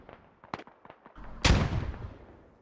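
In a military shooter game, scattered small pops lead into a loud frag grenade blast with a heavy boom and a long, rumbling decay that fades over the following second.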